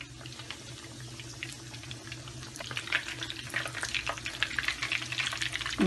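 Raw chicken cooks over low heat in a pan, giving a steady, moderate sizzle with soft crackles that grow busier toward the end.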